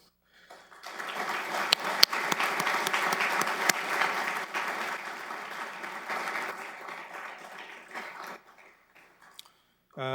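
A crowd at a firefighter academy graduation applauds steadily for several seconds, a dense wash of clapping that gradually thins and fades out near the end.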